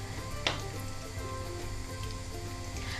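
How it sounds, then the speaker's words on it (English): Cheesy bread fingers frying in oil, a continuous even sizzle like light rain with a hum underneath and one brief sharp crackle early on. "And while it's frying"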